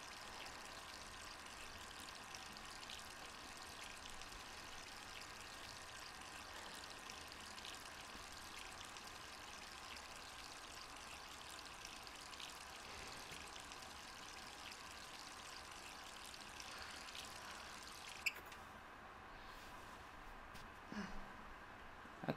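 Water runs steadily from a tap in Resident Evil 3, a constant close splashing stream that continues almost without break before cutting off near the end, with a few small knocks after.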